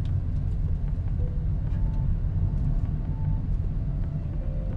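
A 2020 Honda City sedan accelerates on a race track, its engine a dense, steady low rumble heard from inside the cabin without any speech.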